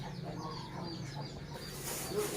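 Hens cluck softly and intermittently against a steady low background hum, with a brief higher call near the end.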